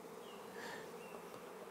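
Honey bees buzzing around a hive during a colony split, a continuous quiet droning hum from many insects nearby, with no talking.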